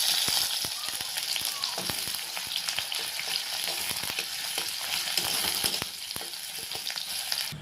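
Onion and garlic frying in a hot wok already used for frying fish, a loud, continuous crackling sizzle with bursts of spattering and occasional stirring, close up with no voices.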